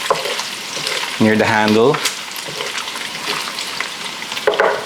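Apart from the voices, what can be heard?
bacon pushed to one side in a hot frying pan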